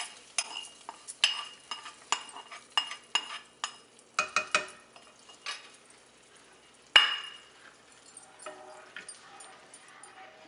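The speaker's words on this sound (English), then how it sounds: "I'm going to add the garnish to the lentils which are getting simmered with coconut milk and jaggery or brown sugar in it." Garnish is stirred into lentil pudding simmering with coconut milk and jaggery, heard as a series of sharp metallic clinks and taps of a spoon against the pot in irregular bursts, fairly close, with no speech.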